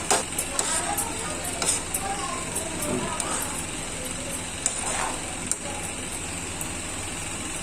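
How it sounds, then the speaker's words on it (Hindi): A spoon stirs radish greens curry in a cooking pot, making scattered light scrapes and clicks over a soft sizzle, with a low engine-like hum in the background and a voice talking at times. "चम्मच चलाते हुए रहेंगे 5 मिनट तक।"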